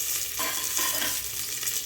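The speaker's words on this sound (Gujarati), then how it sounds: "હવે આપણે 1 ચમચી જેટલું જીરું નાખીશું, 5 ચમચી જેટલી હિંગ નાખીશું, સૂકો લીમડો અને સૂકું મરચું વઘારમાં" Cumin, asafoetida, dried curry leaves and dried chili crackle and sizzle in hot tempering oil for a bottle gourd and chana dal curry, a continuous close frying hiss with some stirring.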